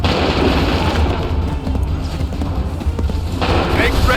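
A musket volley from soldiers in the game Assassin's Creed 3 booms as a dense burst of gunfire with a rough, sustained roar, loud and close, while a voice is heard.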